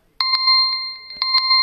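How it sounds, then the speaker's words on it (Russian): A Xiaomi Poco C40 phone timer alarm rings in a loud electronic melody of bright, clear repeated tones, with short pauses between bursts and no other sound. "1 минута сработала."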